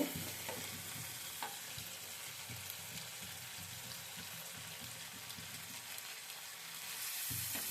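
Spices cooking with yogurt in a pan give a soft, continuous sizzle, with faint stirring clicks and scrapes recurring throughout.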